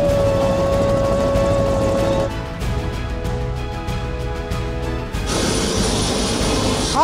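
A helicopter in Bali powers up for takeoff, a loud steady turbine roar with pulsing rotor chop, a tone shifting midway and a rising high whine near the end.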